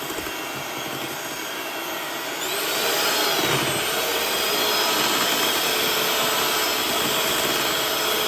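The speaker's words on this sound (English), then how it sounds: "now she's blending all the pieces" A blender whips frozen shea butter pieces into body butter, a loud continuous motor whir close by that rises in pitch and intensity partway through, then holds steady without speech.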